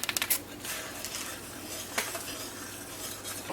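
A spoon scrapes and clinks against a pot of hard-boiling peach jam, with a quick burst of metallic taps at the start, another clink near the middle and bubbling under the stirring.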